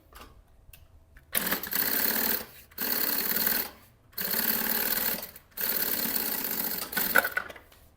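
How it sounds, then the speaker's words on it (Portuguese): Sewing machine topstitching a panel for a maternity bag, running in four steady bursts of close, loud mechanical whirring with short pauses between. "Ó, um pesponto aqui em cima, bem bonito."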